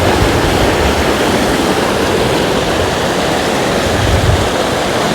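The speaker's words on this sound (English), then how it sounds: "But Snohomish River is pretty full." The flooded, brim-full Snohomish River rushes past as a loud, unbroken roar of churning water, close by and steady with no voices over it.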